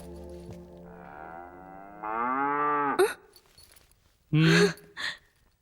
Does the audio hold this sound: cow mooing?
yes